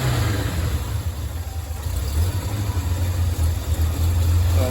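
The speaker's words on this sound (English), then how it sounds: "It does still throttle up quite nice." A Datsun 240Z engine, freshly started and still idling a little rough, throttles up from a steady low rumble into a slightly stronger, busier drone, close by with no voices.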